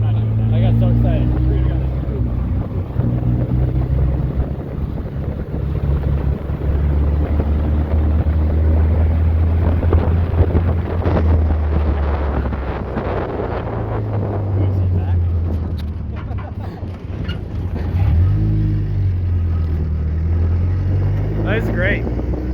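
A 1953 Willys CJ3 Jeep's engine drones loud and steady as it drives on the highway, rising and falling through gear changes, with wind buffeting the microphone and people talking over it.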